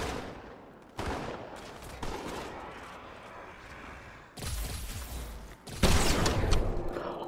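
Gunfire bursts from the video game Halo 2 Anniversary, a series of loud, abrupt blasts at about one, two, four and a half and six seconds, each followed by a decaying rumble.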